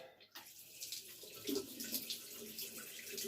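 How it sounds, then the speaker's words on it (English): Tap water runs into a sink during hand washing, a soft, steady splashing stream with small shifts as hands move under it, faint and close. "so you wash your hands"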